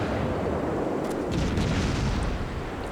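Warship guns on the Atago fire high-explosive shells in a naval battle video game, a dense, continuous barrage of deep booms and rumbling blasts, loud and close, with no talk.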